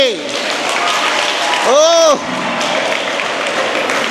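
An audience claps in welcome at a Sri Krishna Janmashtami celebration, a continuous wash of applause running throughout while a voice calls out briefly and a warbling tonal sweep rises and falls midway.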